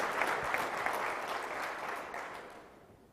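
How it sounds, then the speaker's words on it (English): A banquet audience at an awards ceremony claps steadily, a dense even patter of many hands heard from a distance that slowly fades toward the end. "Let's give them one more round of applause"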